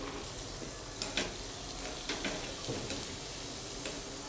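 Potato vada for a Navratri fast sizzles gently in oil over a low flame, a soft steady frying hiss with faint crackles and occasional ticks.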